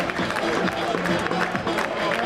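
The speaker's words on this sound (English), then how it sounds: "Just let you hear the roars of the crowd there." Football crowd noise at a Scarborough versus Banbury United National League North match, a steady, broad roar and murmur with some clapping filling the stadium throughout.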